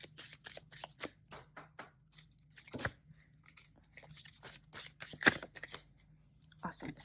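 Tarot cards are shuffled by hand in rapid crisp riffles and slaps, a close, irregular run of papery bursts with brief pauses between them.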